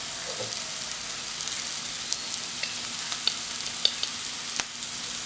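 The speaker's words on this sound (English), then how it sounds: "I'm going to add the chili pieces" Chili pieces fry in a pan with a steady, close sizzle, broken by a few small pops and crackles near the end.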